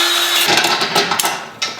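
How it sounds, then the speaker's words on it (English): A power drill whirs briefly at close range, then cuts into short rough grinding bursts before stopping. "I need to get the drill."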